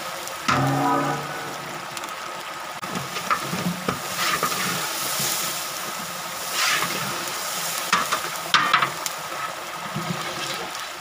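Tomatoes dropped into a pot of frying chana pulao set off a steady sizzle with stirring and scraping throughout, close and moderately loud, with a few sharper clatters and no speech.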